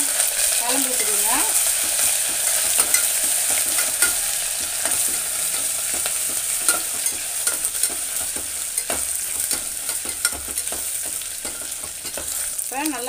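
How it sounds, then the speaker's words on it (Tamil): Ginger garlic paste and a bay leaf split in two fry in oil while being stirred, building a base for a Tamil dish. A steady sizzle runs throughout, broken by repeated spoon scrapes against the pan. "இஞ்சி பூண்டு பேஸ்ட்டு போட்டுக்கிறேன். நல்லா கலந்து விட்டுருங்க."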